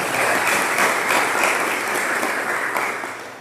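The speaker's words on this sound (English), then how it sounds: "let's give them a round of applause" Sustained audience applause at a healthcare education event on green hospitals, a dense, steady wash of many clapping hands held at full strength for about three seconds before easing slightly at the end.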